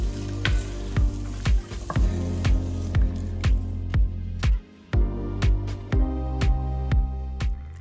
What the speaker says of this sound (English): So dump everything in here along with the bacon and stir it up.